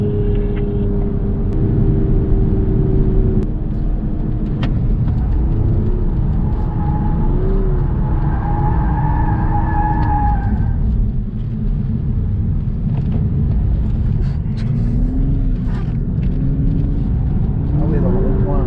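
A car on a driving course runs with a loud, steady engine rumble, the tone rising and falling as it accelerates, while people talk over it throughout.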